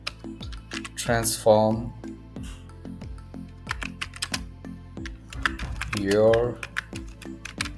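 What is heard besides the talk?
typing a heading on a computer keyboard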